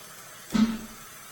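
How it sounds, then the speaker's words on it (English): A steamer gives a single short hiss of steam onto a comic book during cleaning, one brief close burst that fades quickly in an otherwise quiet room. "Alright, gonna steam this now."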